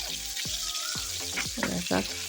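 Fish pieces fry in a pan for a fish curry, a soft sizzle and crackle in the background, with a few brief utensil or handling sounds over the frying.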